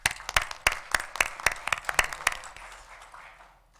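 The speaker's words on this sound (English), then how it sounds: "So let's give them an applause for the championship." Applause from a small group at a city council meeting, a scattering of sharp individual claps, loud and close, that thins out and fades over a few seconds.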